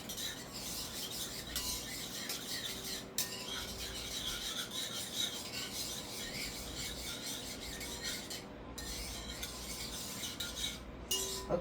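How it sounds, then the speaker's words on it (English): A spoon or whisk scrapes and rubs steadily around a bowl, briskly stirring a frothy, bubbled yeast mixture, close and continuous with no talking. "I'm just going to give it a little quick mix."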